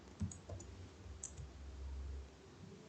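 Keys clicking on a computer keyboard while a command is entered at a Linux terminal: a few quiet, scattered taps, close and faint, with no talk.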